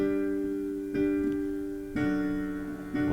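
Sustained piano chords, a few struck in succession about a second apart, each ringing and fading, moderately loud with no voices.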